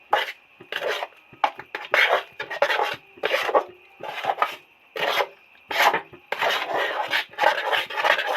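A spoon scrapes through chana dal batter mixed with ground sugar in a pan over a low flame while making dal sandesh, giving close, repeated rasping strokes in an uneven rhythm with short pauses and no talking.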